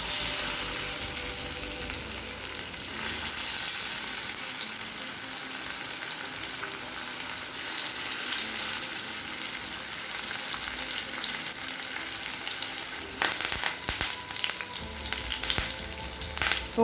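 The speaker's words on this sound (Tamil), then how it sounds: "இப்போ எண்ணெயில் போட்டு பொரிக்க ஆரம்பிச்சிடலாம்." Fish pieces deep-frying in hot oil for a Tamil meen varuval, a steady close, dense sizzle and crackle throughout with a few sharper pops and spits near the end, no talking.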